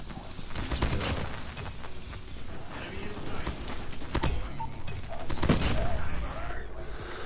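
Hip-fired gunfire in the mobile shooter Call of Duty: Mobile, dense rapid bursts of shots with crackling impacts, loud and continuous, mixed with game noise and a voice talking.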